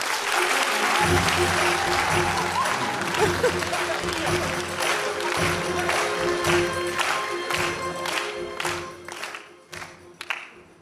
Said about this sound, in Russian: Давайте встретим аплодисментами.